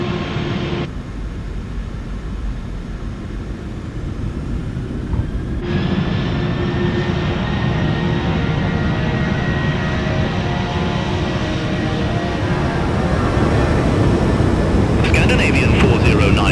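A Boeing 737-800 rolls for takeoff on runway 01 left at Oslo, its engines a loud, steady roar with a rising whine, under cockpit radio chatter.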